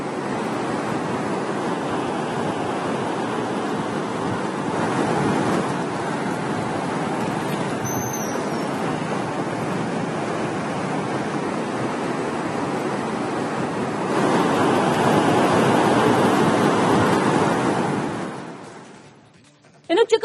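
The Vedavati river in Chitradurga runs full after heavy rain in a loud, steady, broadband rushing roar that swells midway and then fades out near the end.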